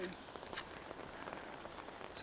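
Rain falling steadily on a hiking trail along the Camino Francés between Espinal and Villava, a soft, faint, continuous patter with scattered drops, heard at a distance without any voices.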